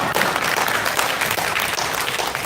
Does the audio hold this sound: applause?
yes